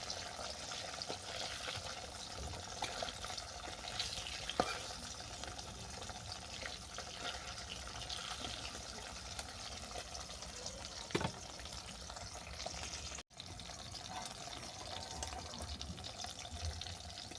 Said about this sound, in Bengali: দু তিন মিনিটের মতো ভেজে মাছগুলোকে নামিয়ে নেবো